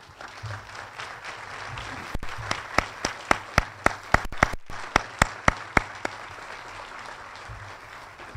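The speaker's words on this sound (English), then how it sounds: "give a big round of applause" A burst of applause, mostly distinct hand claps at a steady quick rhythm, with no talking over it.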